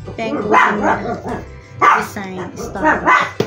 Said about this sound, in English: my dogs are playing because they just ate dinner